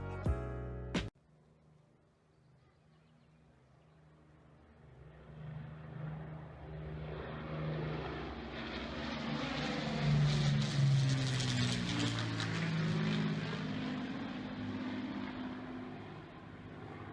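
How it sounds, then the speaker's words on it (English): A four-engined Avro Lancaster propeller bomber makes a low flyby, its droning roar building steadily from a distant hum to a loud, close pass near the end, with no talk. "Here the Avro Lancaster does a low flyby."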